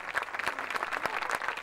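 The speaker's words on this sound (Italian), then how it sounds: "un bel applauso" Audience applause at a live comedy show in Artena, a brief burst of dense, close clapping at steady strength with no talk over it.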